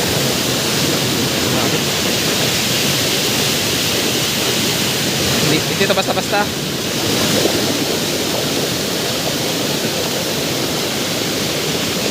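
A waterfall pours steadily, a loud, constant, close roar of flowing and splashing water, with a brief spoken phrase barely rising above it.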